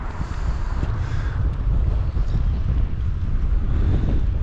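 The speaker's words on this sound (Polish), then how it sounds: "Ale wiatrzysko." Strong wind buffets the microphone with a steady, loud low roar and gusty rumbling throughout, with no voices.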